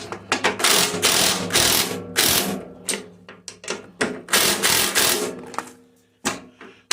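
Ratchet wrench loosening the skid shoe bolts on a snow blower, a loud close series of rapid clicking pawl bursts in repeated strokes, no talk.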